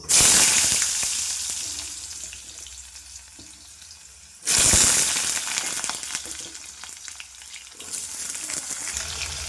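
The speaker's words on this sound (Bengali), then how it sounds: "এবার আলুটা ভেজে নেব" Potatoes with turmeric and salt fry in hot oil in a wok. Two loud, hissing sizzle surges each ease into a steadier crackle, with light stirring scrapes between them.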